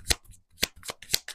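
Tarot cards riffle-shuffle by hand in three quick, crisp bursts, close up and fairly quiet, with no talking over them.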